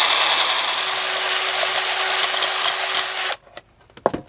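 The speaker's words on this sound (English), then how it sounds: "I already had the drill" A cordless drill spinning whisks as a makeshift beater whirs loudly and continuously for a few seconds, then cuts off, leaving a few clattering knocks behind.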